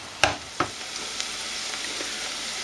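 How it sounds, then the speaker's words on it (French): Onions nearly cooked in a pan, frying with a soft steady sizzle while a couple of sharp scraping stirs knock at the start, fairly quiet. "Quand les oignons sont relativement bien cuits, comme ceci, on les remue régulièrement, comme cela."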